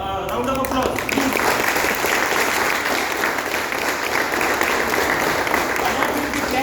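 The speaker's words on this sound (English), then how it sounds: "it attracts a very good loud round of applause" A loud, sustained round of applause fills the hall from an audience at the unveiling of the Toyota Innova Hycross hybrid, dense clapping running steadily for several seconds.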